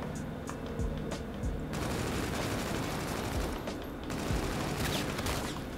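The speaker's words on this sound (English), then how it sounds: "Why are you shooting my body?" Gunfire in a first-person shooter video game: rapid bursts of automatic fire crackle and boom in quick clusters over a dense, busy game soundscape, with no speech.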